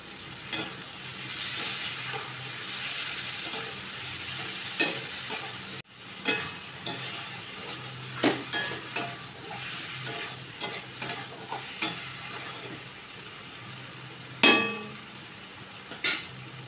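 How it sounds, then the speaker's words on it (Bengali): Bombay duck fish curry base sizzles steadily as it fries in oil with salt and turmeric, while a spoon repeatedly scrapes and clinks against the pan in sharp, irregular knocks. "ভাজা ভাজা হয়ে গেছে, এবার লবণ দিয়ে দিয়েছি।"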